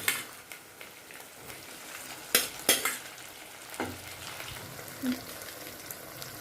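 A spoon stirs pasta with turmeric and pasta masala in a pan, giving a soft sizzle with scattered scraping taps and a few sharp clacks against the metal, close and fairly quiet.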